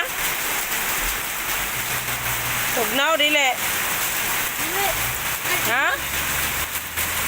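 Rain pours steadily in a continuous close hiss while people talk briefly over it, with a couple of short exclamations breaking through.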